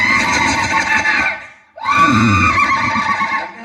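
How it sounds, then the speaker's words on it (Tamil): A horse neighs loudly during a stage drama performance, with a long harmonic whinny, a brief pause, then another sustained neigh over a noisy, crowded background. "இப்பதான் குதிரை கணக்குது"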